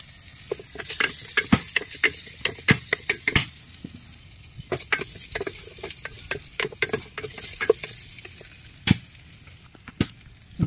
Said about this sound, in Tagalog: Igisa lang natin guys yung munggo natin.